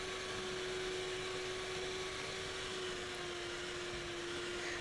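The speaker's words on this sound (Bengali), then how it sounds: "আমি এখন ভালো করে এটাকে বিট করে নেব।" An electric beater whirs steadily through a chilled chocolate ice cream mixture made from ice cream powder, giving a close, continuous motor hum with a constant tone and no pauses, and no one speaking.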